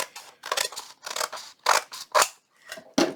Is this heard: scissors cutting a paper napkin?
yes